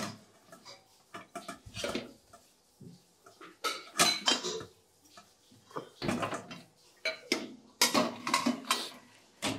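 Pots large and small are set onto a kitchen shelf in a newly finished house, producing a series of sharp metallic clanks and clatters in irregular bursts, with quiet pauses in between.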